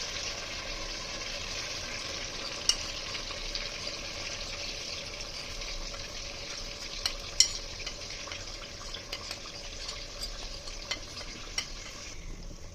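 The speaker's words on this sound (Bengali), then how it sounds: "এখন গ্রেভিটা দিয়ে দিচ্ছি আস্তে আস্তে করে" Gravy ladled into hilsa fish pulao sizzles in the pan with steady frying hiss throughout, punctuated by occasional soft clicks and scrapes from stirring.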